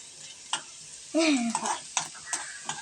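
Red shallots stirred in hot oil in a pan for pickle, a few scraping stirs with a short gliding squeak and soft clinks over a low sizzle, close and intermittent.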